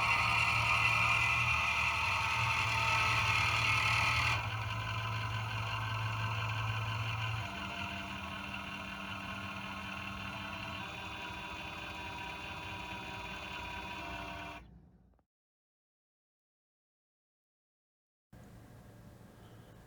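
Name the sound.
O scale model railroad turntable motor and belt drive running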